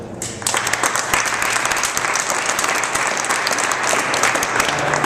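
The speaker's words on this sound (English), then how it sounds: "I think you all deserve to give yourselves a big round of applause" Audience at a state advocacy day breaking into applause, starting abruptly after a brief lull and then holding as loud, dense clapping close by for several seconds.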